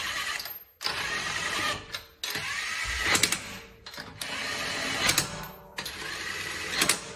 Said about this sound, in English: Using an impact gun, just set it on low power so that it doesn't over torque the lug nuts.